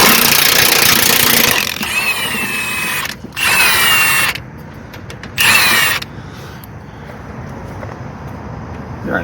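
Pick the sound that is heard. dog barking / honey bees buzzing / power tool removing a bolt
power tool removing a bolt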